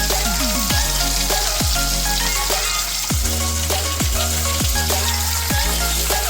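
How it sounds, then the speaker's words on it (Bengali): Sea fish deep-fry crisply in a pan of hot oil, giving a constant loud sizzle, with a series of sharp clinks from the utensil landing at a regular rhythm. "কড়া করে মাছ ভাজা হচ্ছে, সামুদ্রিক মাছ তো"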